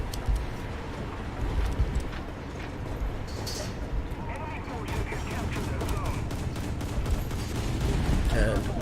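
Naval gunfire striking an Italian cruiser, the Bartolomeo Colleoni, in War Thunder naval battle, a busy stream of shell impacts and booms under someone talking.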